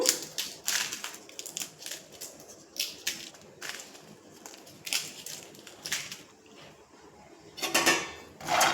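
Groundnuts dry-roasting in a pan for groundnut podi are stirred steadily, giving a close, continuous rattling and scraping with irregular louder clatters throughout.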